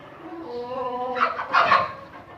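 Desi chickens on a Pakistani poultry farm give a few close, harmonic clucking and gobbling calls that rise into a louder burst of squawks over about two seconds.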